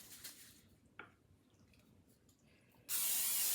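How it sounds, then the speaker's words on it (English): Cooking spray hisses onto a baking pan for brownies, a sudden loud close spray that starts after a quiet stretch of faint kitchen handling and a small clink, continuing strongly to the end. "Spray the pan."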